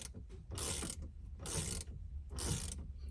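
Wrench loosening the nut on an AGM house battery terminal in an Entegra Cornerstone motorhome, three separate bursts of close ratcheting clicks with short pauses between them, no talking.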